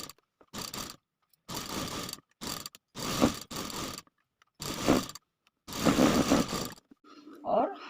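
Sewing machine running a seam on a buckram neckline, short bursts of mechanical whirring and clattering stitching separated by pauses, close, with a brief voice at the end.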